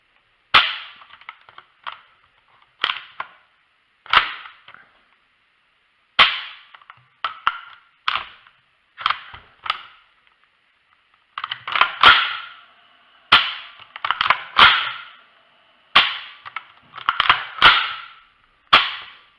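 A WE SMG8 airsoft replica dry-fired on an empty magazine, its action cycling in sharp mechanical bursts and single snaps, close and loud, with short pauses between strings of rapid clacks.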